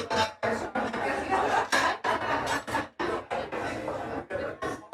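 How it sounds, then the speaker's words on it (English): Clattering sushi restaurant chatter and dish noise, run through a noise gate, is chopped into abrupt rhythmic bursts, cutting in and out with sharp silences between them. "I used that field recording of the sushi restaurant and I put a gate on it"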